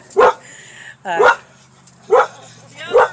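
A dog barks four times in close, loud, evenly spaced single woofs, some with a whiny edge, heard alone outdoors near an RV.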